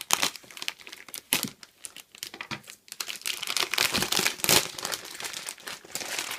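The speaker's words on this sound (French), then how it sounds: "On va être galérien pour ouvrir un sachet." A Yu-Gi-Oh card booster pack wrapper is torn and crinkled open, with close, loud, irregular bursts of crackling plastic foil across the whole stretch and no talking.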